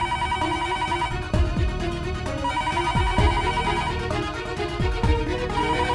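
A telephone ringing repeatedly in a steady electronic ring pattern, loud and close, filling the whole stretch with no talk over it.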